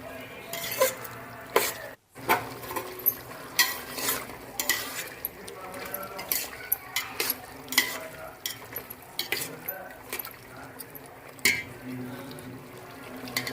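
A spoon stirs chicken gravy with garam masala in a pan, producing close, irregular scraping and clinking strokes over a soft sizzle, with brief pauses between movements.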